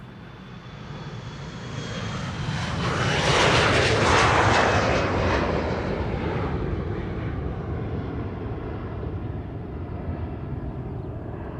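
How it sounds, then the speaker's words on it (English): An Embraer 175 jet departing Schiphol for Bremen swells into a loud roar as it passes close, then recedes into a steady, fading rumble with a thin whine, no voices. "Embraer 175 to Bremen up next."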